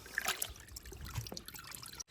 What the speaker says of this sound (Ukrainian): Зливаємо розсів.